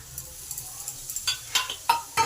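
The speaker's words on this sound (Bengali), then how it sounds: "ডালটাকে সমস্ত মশলার সঙ্গে ভালো করে মিশিয়ে নিই" Dal stirred into spices frying in a pan, a soft steady sizzle broken by a handful of scraping stirs that grow louder and sharper toward the end, close and with no talk.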